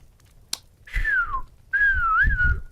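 A sharp snap, then two clear whistled notes from a person, the first sliding downward, the second wavering, close and distinct.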